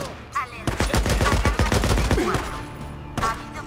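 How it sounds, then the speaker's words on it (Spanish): Rapid bursts of gunfire from the open-world zombie game Days Gone, with a dense volley of loud, close shots fired in quick succession, then a brief pause and another short burst near the end. "Ha habido varios disparos."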